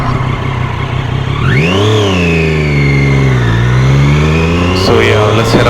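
Nearby muscle cars, Ford Mustangs and a Dodge, rev loudly and accelerate, one engine sweeping sharply up, then easing down and building again into a sustained roar, with faint higher mechanical whine toward the end.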